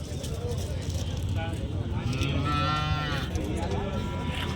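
Calves moo at a cattle market in Chintamani, with one drawn-out nearby moo rising over the steady murmur of people talking and general market noise.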